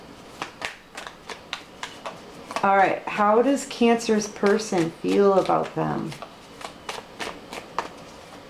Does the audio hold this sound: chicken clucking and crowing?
no